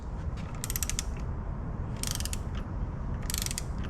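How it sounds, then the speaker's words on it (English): Socket ratchet running bolts into a 5.7-liter LS engine for a 2006 Chevy Tahoe, with three quick bursts of fast metallic clicking over a steady low rumble. "it's a simple matter of just taking my socket, and we're going to run this in"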